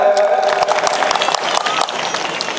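An audience at a Bhim Mahotsav award ceremony in honour of the award organizer gives a short burst of fairly close, dense applause that fades slightly across its few seconds.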